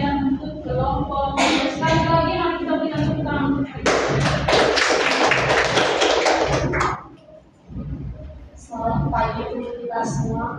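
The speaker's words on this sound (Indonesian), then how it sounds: "Sekali lagi mari kita berikan tepuk tangan." An audience claps for a presenting group at a classroom peer-teaching session: scattered claps build into a dense burst of applause, fade, then return briefly.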